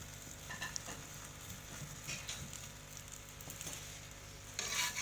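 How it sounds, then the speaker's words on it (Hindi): Chicken paratha for a chicken paratha roll fries in oil on a hot tawa, giving a steady low sizzle throughout with a brief louder burst of crackling near the end. "अब हम इसे तवे पर सेक लेंगे।"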